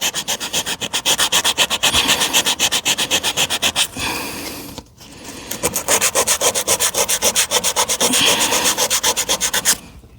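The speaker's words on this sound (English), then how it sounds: "I just got a little piece of sandpaper here. Clean off the paint and the dirt and the" Sandpaper worked by hand over paint and dirt on a stock trailer, close and loud, in quick rhythmic scraping strokes with a short pause midway before the rubbing resumes.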